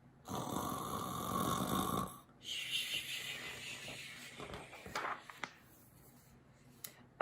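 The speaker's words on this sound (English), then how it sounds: "But the bear snores on." A bear snoring: one long, loud, rasping snore lasting about two seconds, followed by quieter breathy rumbles and a few soft clicks, with nobody talking.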